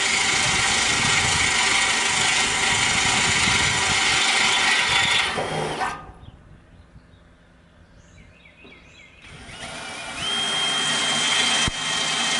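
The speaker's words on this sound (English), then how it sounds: "I will be very glad when I am done drilling holes." Power drill boring holes into lower house siding, loud grinding and ratcheting bursts that stop midway for a few quieter seconds before the drilling resumes, up close.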